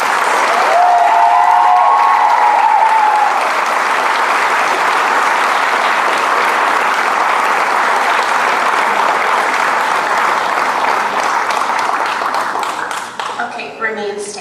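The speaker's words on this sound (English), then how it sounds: "Please show your appreciation with a round of applause." A graduation audience at a school ceremony claps in sustained, dense applause that fills the room at a steady level, with a brief cheer near the start, tapering off near the end.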